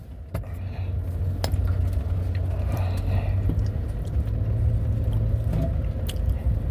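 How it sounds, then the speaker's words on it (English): Steady rumbling drive in a car heading out to a dry creek, with continuous road and engine noise, occasional clicks and small rattles inside the cabin, no talking. "I'm going to hop in the car and we're going to drive out there"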